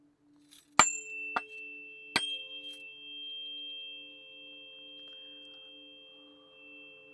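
Tuning forks are struck with a few sharp metallic taps, then a clear, pure tone rings on and slowly fades in a quiet room.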